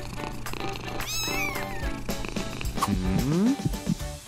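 A kitten meows several times, high rising and falling cries up close, mixed with background rustle and other sounds.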